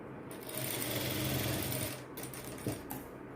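A sewing machine runs steadily while stitching a blouse, with a dense, fast mechanical whir that holds almost unbroken before briefly pausing and starting again, close and alone.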